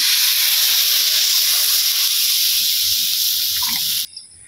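Loud, steady hissing and sizzling as broth is poured into a hot pan of fried eggplant and potato curry, continuing for several seconds before cutting off abruptly.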